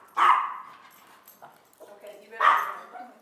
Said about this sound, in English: That was my brother's dog that he left here and never took back with him.